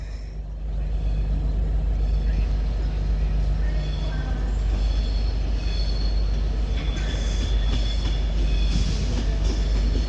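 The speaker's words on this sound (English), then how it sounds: "Now arriving into platform 12 is going to be the 1109 Avanti West Coast service to Edinburgh Waverley from London Euston" An Avanti West Coast train runs into platform 12 at Crewe, a steady loud rumble of wheels and engine with rising squeals and clatter on the rails.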